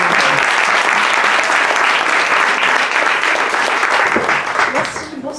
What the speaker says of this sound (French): la formidable Adèle Barbers, que je vous demande d'applaudir